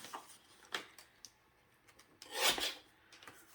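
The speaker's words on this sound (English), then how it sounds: "I'm going to put this in my trimmer" A paper trimmer's blade slides through paper on a crafting table, giving several short scraping swipes with a longer, louder rasp near the middle, close and otherwise quiet.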